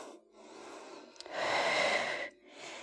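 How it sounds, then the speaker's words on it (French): Deep, slow breathing during a gentle yoga session for breast cancer recovery, with a long audible inhale-exhale swelling in the middle and softer breaths before and after, close and alone without talk. "On prend quelques grandes respirations ici."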